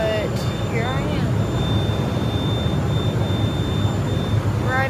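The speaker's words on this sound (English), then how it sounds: "sorry about all the noise, it's just the engines" A steady jet engine roar heard from inside an airliner cabin in flight to Columbus, Ohio: a constant broadband rumble with a faint high whine, continuous and unchanging throughout.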